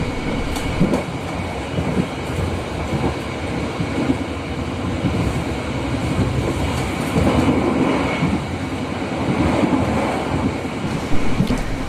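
Inside a passenger train travelling from Lempuyangan station to Cibatu, a steady loud rumble of wheels on rails with faint clickety-clack and carriage rattle continuing unbroken, no voices.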